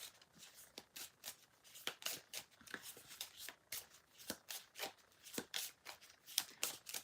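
Tarot cards being shuffled and drawn by hand, a quick run of crisp riffling flicks and soft slaps repeating steadily, close and fairly quiet with no talking.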